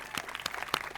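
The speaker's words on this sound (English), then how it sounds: "I'm going to another round of applause for that." Applause from an audience at a Foxborough school committee meeting, a short stretch of scattered clapping with a few sharper claps standing out, moderately close.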